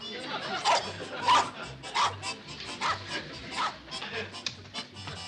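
Repeated sharp dog barks ring out every half second or so, near and prominent, with some whimpering yips between them against a low background of voices.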